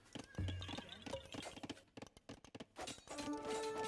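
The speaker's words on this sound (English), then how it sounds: "Knocks the scout off his freaking horse." A mounted scout's horse in a real-time strategy game, hooves clip-clopping in quick irregular knocks amid thuds and cracks of battle, with a brief whinny-like tone and a voice commentating over it.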